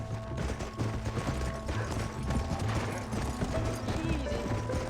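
Horse hooves gallop in a steady, rapid rhythm in the video game Red Dead Redemption, close and continuous across the whole stretch under a dense layer of other game sound.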